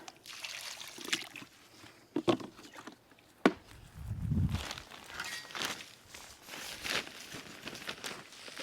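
Water is poured onto loamy soil around a freshly planted tree, making soft trickling and gurgling. Scattered footsteps, rustling and a few sharp knocks come up close, and there is no speech.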